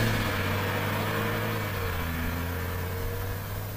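BMW 335i xDrive Touring accelerating, its engine holding a steady mid-pitched drone with faint whine and rising tone, heard continuously and fairly close without speech.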